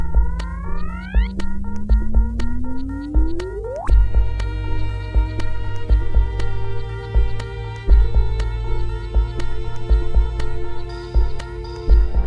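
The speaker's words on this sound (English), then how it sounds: "one composer has taken gravitational waves detected by LIGO, as well as simulations of these waves from different events, and created musical compositions that sound like this" Music built from LIGO gravitational-wave detections and simulated events: rising chirp tones sweep upward to a sharp peak, then settle into sustained layered drones with a steady thumping low pulse and ticking accents, loud and continuous with no voices.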